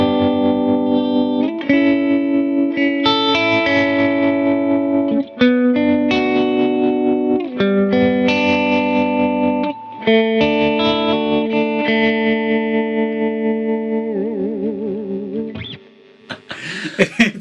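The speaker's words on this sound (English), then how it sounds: "It's a nice tremolo." Electric guitar through a Mooer Trelicopter tremolo pedal plays chords and single notes, the volume pulsing in rhythmic waves, with a warbling, slightly driven tone and brief pauses between phrases before fading to a few scratchy string sounds.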